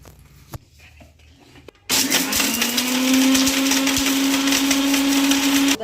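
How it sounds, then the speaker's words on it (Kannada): Garlic cloves for a sambar ground in a mixer grinder: after a quiet start with a few faint knocks, the motor abruptly roars to life and holds a loud, steady whine with rising pitch until the end. "ಒಂದು ಐದಾರು ಎಸಳು ಐದಾರು ಎಸಳು ರುಬ್ಬಿ ಸಾಂಬಾರಿಗೆ ಹಾಕಬೇಕು"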